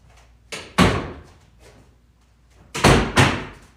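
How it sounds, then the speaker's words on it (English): A door bangs repeatedly indoors, two pairs of loud, close thuds with a quiet gap between them, and no voices over them. "Okay, there's like a door banging."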